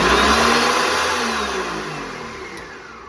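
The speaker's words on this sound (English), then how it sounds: "And now we're gonna blend her up." A blender whirs loudly and steadily, blending a sandwich with a little more than a cup of water into a puree, the motor droning without pause from start to finish and easing slightly toward the end.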